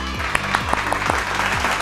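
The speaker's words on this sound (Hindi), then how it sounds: "इन सब के लिए भी जोरदार तालियां।" Applause for children on a kids' riddle show, a burst of clapping heard alongside a musical jingle with repeated sliding tones, moderately loud and brief.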